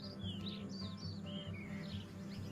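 Several birds chirp and call in short bright phrases over a steady low background hum in Margalla Hills National Park, Islamabad, with spring migrants from the Himalayan regions among them, fairly distant and moderate in level.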